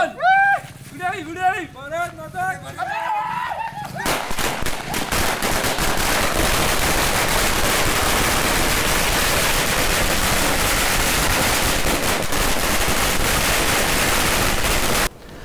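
A long string of firecrackers goes off at a youth group celebration. After a few seconds of someone speaking, it bursts into loud, rapid, continuous crackling and popping that lasts about eleven seconds.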